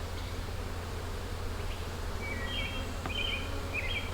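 Honey bees buzz in a nuc hive during installation, a steady low hum with faint insect whines above it, close and continuous, with a few chirps mixed in.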